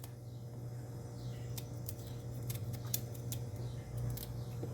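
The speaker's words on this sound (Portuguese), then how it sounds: "Descascar a abóbora cabotiã. Eu descasco dessa forma aqui, ó." A knife peels the hard skin from a kabocha pumpkin in a kitchen, giving a series of short dry scraping strokes over a constant low hum, fairly close and moderately quiet.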